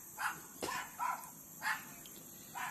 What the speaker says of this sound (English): Yeah, my next door neighbor dogs